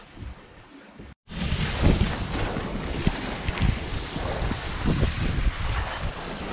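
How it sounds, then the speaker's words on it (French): Strong wind roars across a sailboat at sea in the Indian Ocean, a loud, close, gusting rush with buffeting noise on the microphone that starts abruptly after a brief gap. "le vent est en train de changer d'un seul coup."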